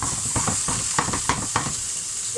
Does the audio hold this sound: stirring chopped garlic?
yes